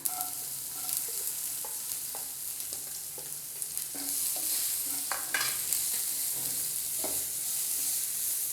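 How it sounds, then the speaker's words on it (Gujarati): Chopped onions frying over low flame in oil with mustard seeds, asafoetida and curry leaves for ragi upma, a soft continuous sizzle broken by close scrapes and clinks of a spoon stirring the pan. "એકદમ લો ફ્લેમ ઉપર આપણે ડુંગળીને બ્રાઉન થવા દેશું।"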